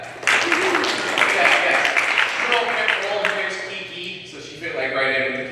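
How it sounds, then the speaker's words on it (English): Audience at a comedy show clapping and applauding, a dense broadband patter of hands over about five seconds, with a voice talking over it before it swells again near the end. "You guys can clap for that."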